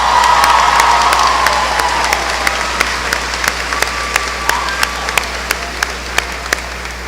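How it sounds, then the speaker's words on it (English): Crowd applause and cheering at the Edwardsville High School Class of 2023 graduation, loudest at the start with shouts, then fading to a thinner scattering of claps. "Let's have a round of applause for Mrs. Kanabi and Mr. Baker for a wonderfu"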